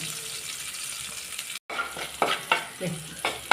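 Onion and green chilli sauté in a pan with a steady close sizzle, briefly cut off, then resumed with several scraping stirs in an irregular rhythm; no one speaks.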